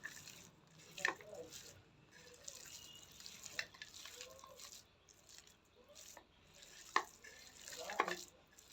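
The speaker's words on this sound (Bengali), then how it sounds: "এবার হাত দিয়ে একটু মিশিয়ে দেবো কিশমিশটি," Raisins being worked by hand into a vegetarian cabbage chop mixture, giving soft, faint squishing and stirring noises with a few wetter slaps, close and quiet, with no talking.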